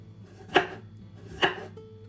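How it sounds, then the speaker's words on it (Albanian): A knife chops through medium potatoes on a board, two crisp, separate cuts about a second apart, close and clear with no talking. "Të vazhdojmë të presim të gjitha patatet një nga një"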